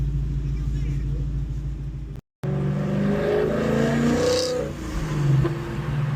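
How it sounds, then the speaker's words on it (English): A 2022 Ford Explorer ST engine in normal driving with sports mode selected, a steady low rumble from inside the cabin that rises slightly, with a brief cut partway through and a voice talking over it. "this is what it sounds like on normal driving in sports mode"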